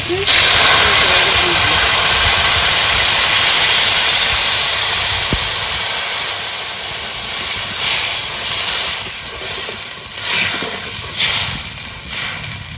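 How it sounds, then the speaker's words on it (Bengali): Fish curry broth boiling hard in a pot, a loud, close, steady hiss of bubbling and steam that eases slightly toward the end with a few louder bursts. "ঝোল ফুটে গেছে"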